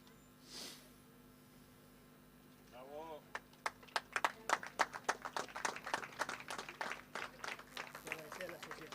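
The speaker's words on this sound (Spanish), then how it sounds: "un fuerte aplauso por el trabajo realizado" An audience at the 91st Rio Gallegos rural livestock expo and cattle and horse auction breaks into sustained applause, with a brief sound at the start before many hands clap loudly for several seconds.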